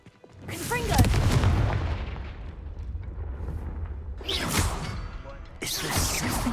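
Confringo fire spell cast in the video game Hogwarts Legacy, heard as a loud booming blast that fades into a rumbling tail, followed by two more sharp bursts near the end.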